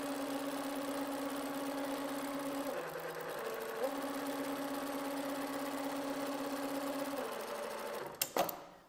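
A Dürkopp Adler 550-5-5-2 industrial sewing machine stitches a waistband, running a steady close motor hum for about eight seconds, with a brief drop in pitch midway, then stopping with a couple of sharp clicks.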